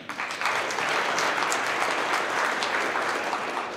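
Steady applause from an office audience at a company monthly celebration for Melton Truck Lines, a dense, even clatter of clapping hands that holds at constant loudness throughout, with no voices heard.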